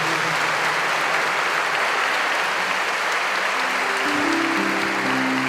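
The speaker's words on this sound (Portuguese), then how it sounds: "Aplaudamos o Santo Evangelho." A church congregation applauds the Gospel reading at Mass, with steady, dense clapping from many hands filling the space throughout. A faint voice or tone enters near the end.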